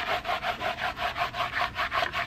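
A hard bristle brush scrubs the carpet of a C5 Corvette interior in fast, even back-and-forth strokes, about ten close rasping passes with no talking.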